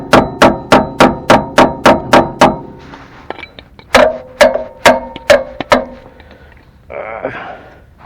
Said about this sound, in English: Just try to hammer it apart and pry it out.